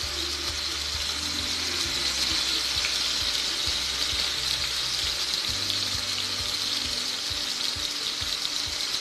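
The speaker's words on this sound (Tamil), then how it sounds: "இதை நாம் இப்போ ஃப்ரை பண்ணிக்கலாம்." Marinated fish seasoned with salt and chili powder fries in a hot pan for a coconut-milk fish fry, giving a steady close-up sizzle and crackle throughout with no talking.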